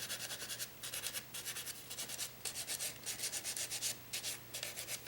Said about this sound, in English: That sanding is really going to smooth that glitter out.